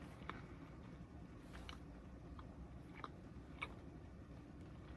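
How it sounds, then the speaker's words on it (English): Candy from a box of large pieces being chewed close to the mic, with soft wet crunches and clicks popping out every half second or so over a steady low mouth rumble, and no talking. "As I continue to chew on camera."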